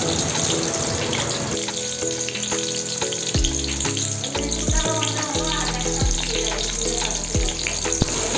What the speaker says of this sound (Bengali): তেল হালকা গরম হয়ে গেলে তাতে কালো জিরে, রসুন কুচি, লঙ্কা কুচি ফোড়ন দিয়ে দিতে হবে।